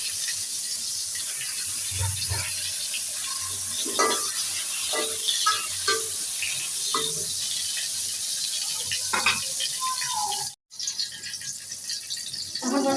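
Eggplant slices rubbed with salt and turmeric drop into hot oil in a home kitchen, giving a steady sizzle with scattered clinks and rattles of a utensil against the pan, and a brief dropout near the end.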